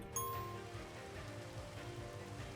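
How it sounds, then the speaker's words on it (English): Steady rain pours down in a Minecraft world, a soft, even hiss that carries on without a break under a brief high chime near the start. "The rain poured down, and my lightning dragon egg was about to hatch"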